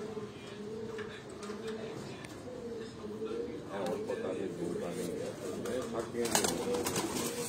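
Pigeons of a mixed breed coo in soft, repeated low calls as evening flocks gather at a home loft, heard beneath steady background noise and someone talking.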